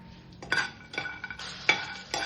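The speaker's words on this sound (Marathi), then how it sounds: "आता इथे शेंगदाणे टाकत आहे मी आणि जे मसाले आपण घेतले होते ते सर्व मसाले इथे टाकून भाजून घ्यायचे" Peanuts and spices stirred and roasted in a pot for a clay-pot mutton masala, giving several distinct scraping strokes with faint clinks of utensil against metal, close and moderately quiet, with no talking.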